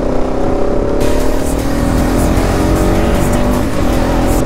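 A car's engine heard from inside as it accelerates to overtake, a loud, sustained drone that rises steadily in pitch over a few seconds, with road and wind noise underneath and no speech.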